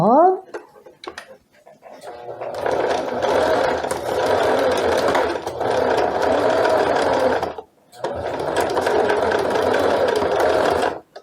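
Sewing machine stitching two overlapping elastic bands together for lounge pants, running loud and close in long continuous bursts with one short pause between them.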